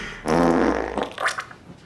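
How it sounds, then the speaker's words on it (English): A loud, sustained fart from an adult woman lasts over a second, low and buzzy with a rough flutter. It fades into a few quieter trailing sputters. "I'm gonna fart."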